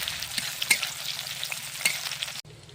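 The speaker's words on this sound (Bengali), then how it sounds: "পেঁয়াজটাকে একটু ভেজে নেব।" Chopped onion fries in hot oil with a bay leaf and a dried chilli, a steady close sizzle with a few sharp crackles and stirring taps.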